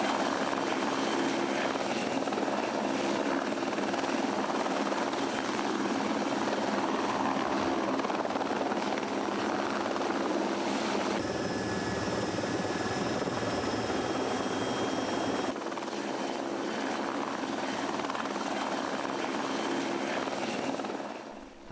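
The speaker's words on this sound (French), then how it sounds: "Les hélicoptères décollent très vite et se rendent sur les lieux" Military air force helicopters take off, their engines and rotors roaring loud and steady throughout, a dense continuous drone with a high turbine whine on top and no speech.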